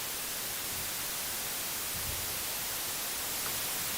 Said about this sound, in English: let's all listen to white noise